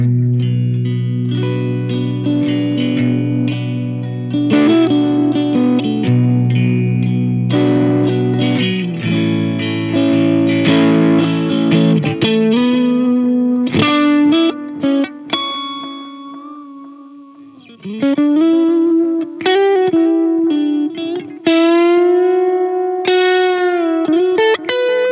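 Electric guitar through a Bootlegger Guitar Hounder overdrive and fuzz pedal, playing chords and riffs with heavy overdrive, then a buzzy fuzz tone with sustained notes, loud and continuous with no talking.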